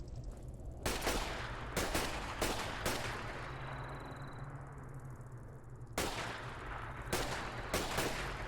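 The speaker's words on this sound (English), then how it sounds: "I'll shoot it through this gap." Gunfire in Fallout 4: a string of sharp, loud shots in uneven bursts, several close together, then a pause and more shots with a low hum underneath.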